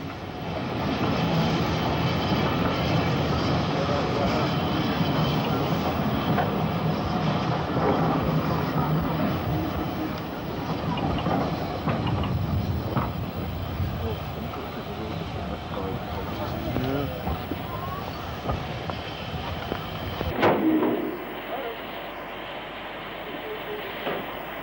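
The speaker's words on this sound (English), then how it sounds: "Promptly at 5 p.m, the pair of engines set out to tackle the 1 in 74 and 1 in 50 climb to Bingham" A pair of steam locomotives depart Weymouth station to tackle a steep climb, giving a broad, rumbling mechanical roar at moderate distance that fades toward the end, with a voice talking over it.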